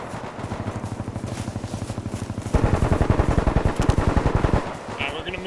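Sustained automatic gunfire from the video game Bellum, a rapid steady stream of shots that grows louder and denser midway, like a whole magazine emptied, with another burst layered in before it eases off.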